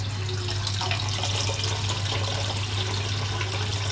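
Full-cream milk poured into a pot in one continuous loud, splashing stream, close and steady throughout, with no voices.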